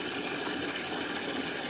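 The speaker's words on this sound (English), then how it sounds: "I'm filling up your water." A new hose filling a horse's water, a steady rushing gush of water pouring into a container, close and continuous for the whole moment.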